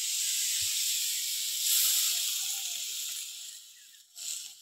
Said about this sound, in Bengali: এবার আমি তরকারির মধ্যে জল দিয়ে দেবো।